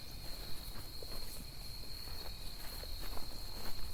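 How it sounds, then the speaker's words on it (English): Many crickets chirping at night in a dark outdoor spot, a steady dense high trill running throughout with faint rustling and footsteps underneath. "those are just crickets that you're hearing in the background"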